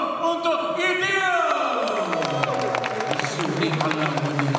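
Audience applause at the launch of a Malaysian drama series fills the room, a steady wash of clapping and cheering mixed with voices and a musical tone that slides down.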